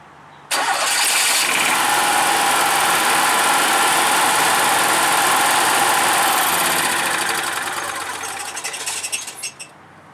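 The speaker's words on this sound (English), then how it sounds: "You hold the start button until the engine is all the way on." An engine cranks and catches abruptly, then runs loud and steady at a high-pitched whir before slowly winding down near the end.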